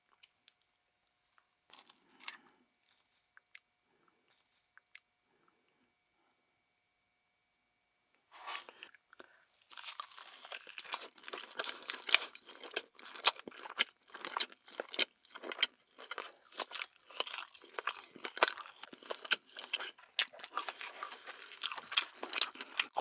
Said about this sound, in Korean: 핫도그 찍어서 먹을게요.